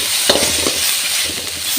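Coriander and mint leaves frying in a pan for gravy, a loud bright sizzle with a few stirring scrapes and soft clicks.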